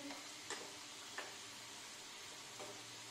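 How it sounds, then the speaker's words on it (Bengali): Chandrakala pitha, or gujiya, fry in hot oil until golden, a steady soft sizzle with a few faint clicks and stirring taps, no voices. "এবার পরের গুলো আমি সোনালি করে ভেজে নিচ্ছি।"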